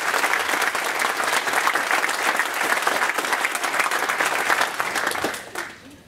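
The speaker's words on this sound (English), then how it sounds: "Would like a big round of applause for" A conference audience gives sustained, dense applause for about five seconds before it tapers off and fades out.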